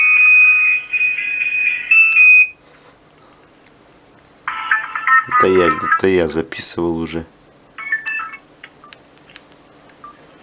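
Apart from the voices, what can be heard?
Ringtones played on an LG KF300 mobile phone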